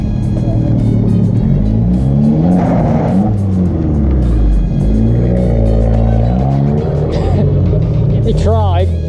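An Abarth pulls away from a car meet at a gliding club, the engine revving through several rising and falling surges, loud and nearby. Voices talk over the sound.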